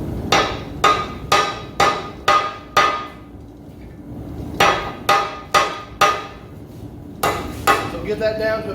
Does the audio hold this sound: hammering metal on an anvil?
yes